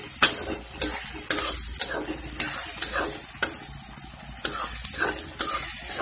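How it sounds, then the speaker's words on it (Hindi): Green peas for spicy aloo gobhi hiss and crackle in a frying pan while a spoon scrapes through them in regular strokes, close and fairly loud, with no talking. "ये हम इसको बीच बीच में चलाते रहेंगे ताकि ये हमारी मटर अच्छी तरीके से पक जाए"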